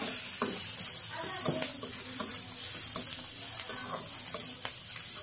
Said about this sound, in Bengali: তো কড়াইয়ের মধ্যে তেল দিয়ে আমি পেঁয়াজ দিয়ে দিয়েছিলাম